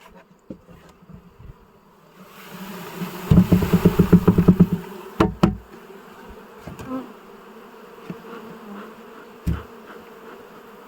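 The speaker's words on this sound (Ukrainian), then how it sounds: "стільки бджоли" A swarm of honey bees buzzes in a dense, droning mass, swelling loud and close midway with a pulsing hum, then settling back to scattered buzzing amid occasional knocks.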